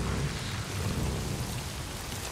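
Thunderstorm downpour in the video game Days Gone, dense rain hissing steadily with a deep rumbling low end, continuous and close with no voices.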